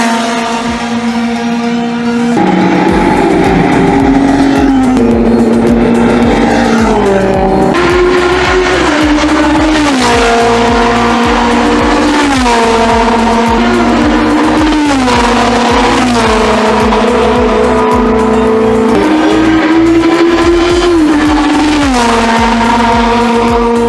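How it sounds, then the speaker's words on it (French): A Ferrari race car on the Castellet circuit roars loudly and continuously, its engine pitch climbing and dropping repeatedly through a series of gear changes. "regardez la Ferrari que vous avez derrière."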